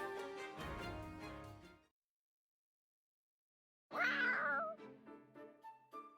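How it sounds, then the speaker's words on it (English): A spooked cat meows in the video game Fire Emblem Warriors: Three Hopes: a sustained meow, a brief silence, then a louder, rising, strained yowl that trails off into shorter cries. "Oh, it's a cat. Looks like something spooked it."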